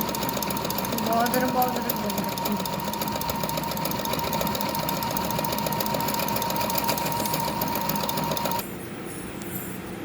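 A sewing machine stitches two-colour embroidery. Its rapid, even mechanical whirring runs steadily with a person talking over it, then cuts out near the end.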